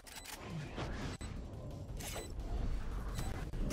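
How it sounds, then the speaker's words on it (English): Mechanical clicks and creaks of a weapon being reloaded in Valorant, a team shooter, sounding as a short run of close metallic handling noises over steady game ambience. "Reloading."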